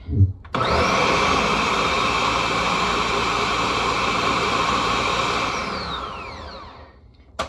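A kitchen blender whirs loud and steady for about seven seconds as it purees drained peas for homemade baby food, starting and stopping abruptly with no talk.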